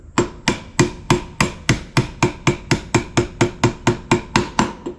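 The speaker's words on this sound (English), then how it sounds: "I'm going to put a socket on it and tap it down." A socket is struck with a hammer to tap an ignition part down onto its collar on a car that cranks but won't start: about sixteen sharp, evenly spaced metallic knocks, loud and close, with no talking.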